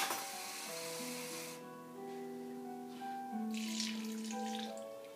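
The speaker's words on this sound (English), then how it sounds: "we're just going to add a cup of water." A cup of water is poured into sourdough bread dough, a quiet, steady trickle with shifting tonal ringing as the vessel fills, ending in a brief splash.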